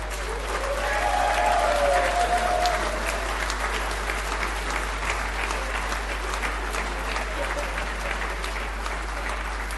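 A hall of delegates at a state party convention applauds a speech with sustained, broad clapping that holds steady throughout, with a faint tonal whistle early on and a low constant hum underneath.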